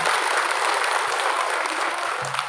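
Dense, steady applause from an event audience at a community organization gathering, sustained and fairly loud throughout with no talk over it.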